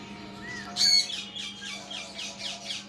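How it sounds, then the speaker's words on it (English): A cockatoo lets out a loud, harsh squawk, followed by several shorter raspy calls in an uneven run, close by over a faint steady hum. "I love cockatoos, but they could be really, really aggressive and extremely loud."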